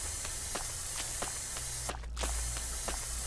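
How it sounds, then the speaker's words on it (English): A never-ending spray paint can fires in a video game as one short, loud burst of hiss, set against soft rhythmic in-game footsteps. "I have to spray paint the fuck out of everything."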